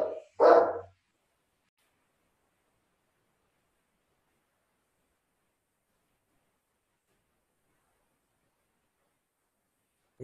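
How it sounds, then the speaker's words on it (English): A pet dog gives a single short bark near the start, indoors and fairly close, followed by silence. "I'm sorry about my dog."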